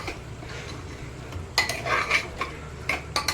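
Mutton being mixed by hand with chili and coriander powder for a mutton curry: soft close clinks and scrapes against a bowl, a few sharper taps near the end over a low steady background hum.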